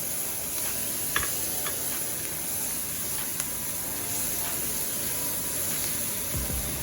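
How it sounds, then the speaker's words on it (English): White onion sizzles in a hot pan for a crockpot short rib dish, a steady close hiss with a few light clicks of stirring and no talking. "I'm gonna put in white onion. I like a lot of onion."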